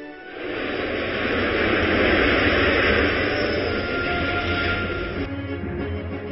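An airplane flies close by, a loud sustained broadband engine roar holding steady for several seconds before easing slightly, with no talk over it.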